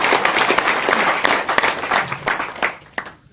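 Loud applause from an audience honouring achievers at a business gathering, dense steady clapping with sharper individual claps, then fading out toward the end.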